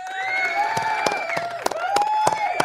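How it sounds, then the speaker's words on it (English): Crowd cheering, whooping and clapping for Donald Trump after news of Larry Hoover's release from ADX Supermax prison, with loud shouts and sharp claps over a steady roar of voices. "Round of applause to Donald Trump."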